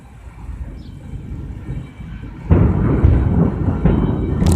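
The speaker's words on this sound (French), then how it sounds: "On est en plein orage là" A low rumble builds, then a sudden loud roar of thunder from a thunderstorm overhead breaks in and rolls on heavily, close and booming.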